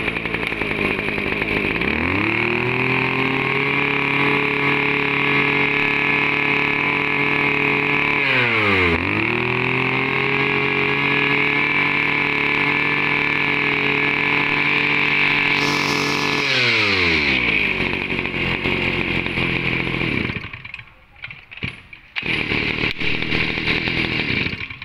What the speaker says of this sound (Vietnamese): C31 là con Kawasaki TD33 nha anh em. Nòng 37 ly, 33cc.